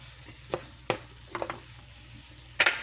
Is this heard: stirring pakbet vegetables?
yes